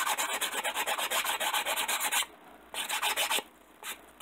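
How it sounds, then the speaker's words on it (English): Sanding a painted terrain model for a tabletop bunker garage build, close rhythmic rasping strokes in quick runs with short pauses between them. "we've got all that sanded and blended in"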